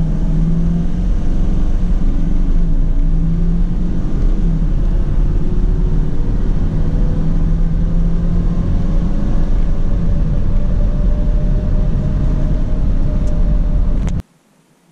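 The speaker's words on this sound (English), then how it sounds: "Wide open throttle, no boost launch." A 2019 Chevrolet Silverado 5500HD medium-duty truck with a dump bed launches at wide open throttle, its engine a loud, steady, droning roar that climbs gradually in pitch for about fourteen seconds, then cuts off abruptly.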